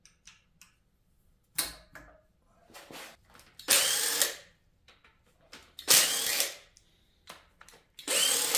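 Power tool run in short bursts while undoing bolts on the oil pump of a C5 Corvette LS6 engine during teardown, several sharp whirring spurts separated by pauses and faint ticking, close and fairly loud.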